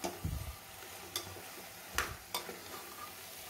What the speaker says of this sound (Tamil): சேர்த்துட்டு இப்போ நல்லா கலக்கலாம்.